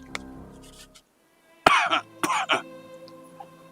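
Several harsh coughs in quick succession, close and loud, after a few faint sounds and a short silence, from a person with a persistent cough and shortness of breath.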